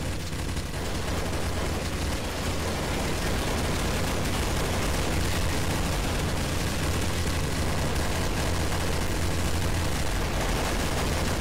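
Dense, continuous gunfire from players shooting in Counter-Strike: Source on the ze_re4_castle map, a loud unbroken wall of overlapping shots that stays constant throughout.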